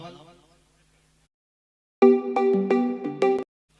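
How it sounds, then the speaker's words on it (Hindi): A mobile phone ringtone plays a short melodic tune of several bright tones lasting about a second and a half, following a brief stretch of voice and a pause. "लालू, जहां भी मेरी आवाज सुन रहा है, मेरा फोन अंदर रूम में लगा हुआ है, वो लाने की कोशिश करें।"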